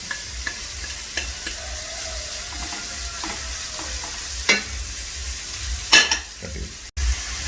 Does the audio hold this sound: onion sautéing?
yes